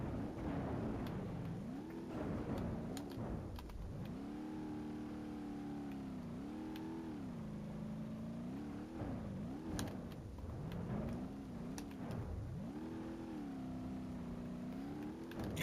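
A short course truck in BeamNG Drive revs hard, its engine note swooping up and down again and again in a continuous, fairly close drone, with no talk.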